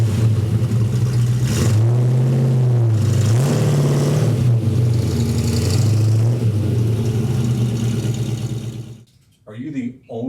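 An original, unrestored one-owner 1967 Shelby GT350 engine revs loudly and close, its pitch rising and falling through several throttle blips before cutting off near the end.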